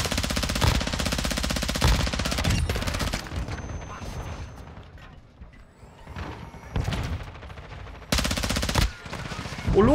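Bursts of automatic gunfire from the video game Modern Warfare 2, loud rapid rattling volleys at the start and again near the end, with quieter stretches of scattered shots and mechanical clicks between them.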